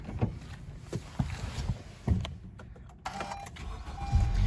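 A 2013 Honda Accord with the 4-cylinder engine and about 70,800 miles starts up. A few sharp clunks and clicks come first, then a low engine rumble builds, with a faint steady tone near the end and no talking.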